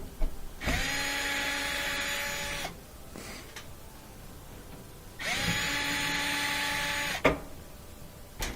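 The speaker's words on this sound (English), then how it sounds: "I'm going to take out these two screws" A power drill whirs twice while backing screws out of the cabinet of a Whirlpool gas dryer, each burst about two seconds of steady motor whine with a rising pitch at the start, separated by quiet handling and a sharp click.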